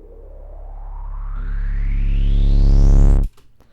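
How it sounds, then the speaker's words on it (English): Riser and sub riser whoosh transition panning left to right, a tone sweeping steadily upward as a deep rumble swells louder, then cutting off abruptly, followed by faint reverberant tail. "the pan goes from left to right, so it's like a whooshing, like past you."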